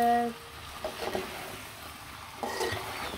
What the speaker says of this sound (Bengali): খুব সুন্দর করে কিন্তু মাংসটা কষিয়ে নিব।